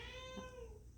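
A cat meowing once, a short, fairly close tonal cry that bends and fades within about a second over a low background hum.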